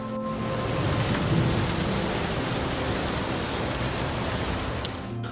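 Heavy rain pours down in a storm, a steady, dense roar with low thunder rumbling beneath it and no voices.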